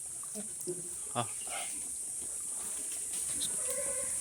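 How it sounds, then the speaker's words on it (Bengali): A few faint bleats from mother goats and young kids on a goat farm come and go over a steady background hiss, short and scattered rather than continuous. "এই ভিডিওতে দেখাবো শুধুমাত্র মা ছাগল এবং ছোট বাচ্চা"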